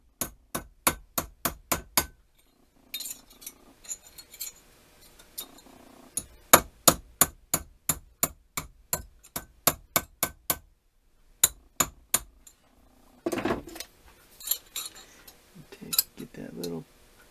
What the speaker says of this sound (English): I just pounded it in there